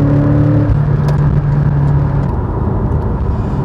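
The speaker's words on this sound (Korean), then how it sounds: "지붕을 덮고 있어도 지금 엔진 소리가 실내로 마구 들어오고 있죠" Porsche 718 Boxster GTS flat-four boxer engine heard from inside the cabin with the roof closed, a loud steady droning rumble and whir while cruising, with no talking.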